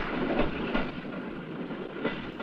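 A train rolling along a railway, a loud, continuous rumble with rhythmic clickety-clack of wheels over rail joints, steady and near throughout.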